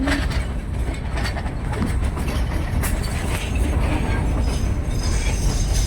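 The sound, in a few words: Shan train on 100-year-old railway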